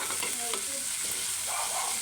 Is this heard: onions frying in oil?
yes